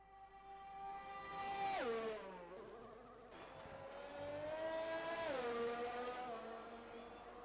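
Race car exiting the pits in a racing video game, a thin buzzing engine that climbs through revs, drops on two upshifts and climbs again, fairly faint and distant with no talk.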